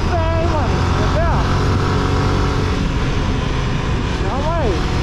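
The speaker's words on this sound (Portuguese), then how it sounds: "Vou acelerar a moto com o pé, hein, mano." Motorcycle engine revving with the throttle worked by the foot while riding, loud and close, with short upward revs at the start and again near the end over a constant rumble.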